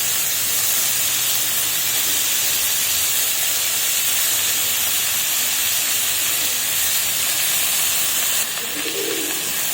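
Chopped onion and tomato fry in a hot pan, giving a steady, bright sizzling hiss that stays even and continuous, with a small extra crackle near the end.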